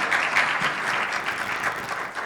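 Loud, dense applause from an audience at a women's media and communication speed-mentoring event, many hands clapping continuously and close for a couple of seconds.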